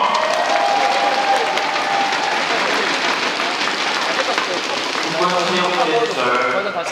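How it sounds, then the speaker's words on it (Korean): Audience applause in a badminton league hall, steady and loud throughout, with an announcer's voice speaking over the clapping. "박수 한 장 드립니다"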